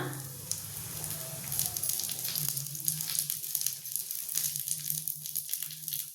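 A baby parotta fries in oil on a flat pan, giving a steady, close hiss and crackle that stays fairly even throughout with small bursts of spattering. No one speaks.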